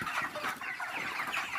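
Broiler chickens cluck softly and continuously at a farm, a faint, busy chatter of several birds with no voices over it.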